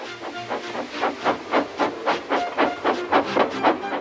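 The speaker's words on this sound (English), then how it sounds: "Gordon, with much noise and blowing of steam, got ready to back onto the train." A steam engine blows off steam in a rhythmic series of about a dozen loud hissing chuffs, evenly spaced and close, with no voices.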